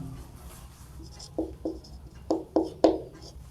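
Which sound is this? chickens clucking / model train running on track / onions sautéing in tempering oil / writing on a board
writing on a board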